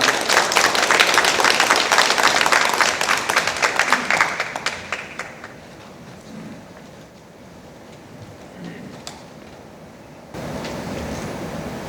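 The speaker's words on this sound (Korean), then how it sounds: "큰 박수 부탁드리겠습니다" Loud applause from an audience at a Donghak Peasant Revolution academic conference in Jeongeup, dense clapping that thins out around midway, leaving a quieter room with a brief swell near the end.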